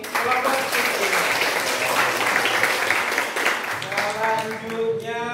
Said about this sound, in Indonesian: Itu tepuk tangan untuk kelompok Sukiman.